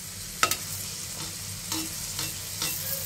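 Pitha made from rice-flour batter sizzles in hot oil, a soft steady frying hiss broken by a few sharp crackles and spatters, quiet and close with no voices.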